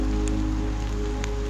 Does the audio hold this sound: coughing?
no